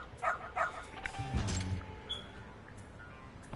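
A dog in the video game Lost Judgment gives a few short yips and barks close by, followed by a faint whine, over quiet game ambience.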